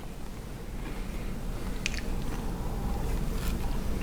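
A crunchy vegan cowboy cookie with coconut is bitten and chewed close up, brief crisp crunches over a soft steady background hiss.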